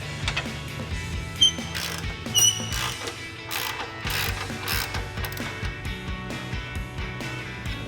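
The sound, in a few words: ratchet loosening cam bolt nut on Tacoma suspension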